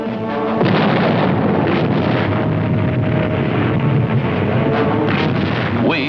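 Coastal guns firing on the Dragoon naval task force during the Second World War, with a heavy, sustained roar of booming gunfire and rumbling blasts that stays loud and dense throughout.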